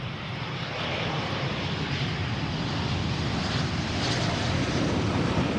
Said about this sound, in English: The beginning of the landing with the pitch up.